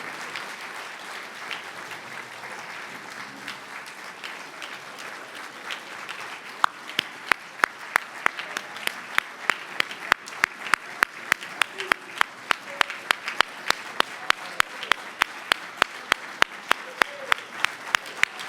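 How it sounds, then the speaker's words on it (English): Applause fills a large banquet hall at an Army Sports Hall of Fame dinner honoring the class of 2022, a steady crowd wash with sharp, loud individual claps standing out in the second half. "Ladies and gentlemen, how about one more round of applause?"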